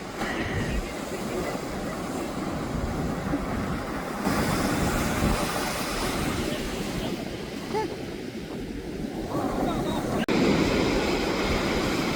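Ocean surf rolls and washes continuously on a Portsmouth Island beach in the Outer Banks of North Carolina, a broad steady roar mixed with gusty wind buffeting the microphone and faint voices underneath.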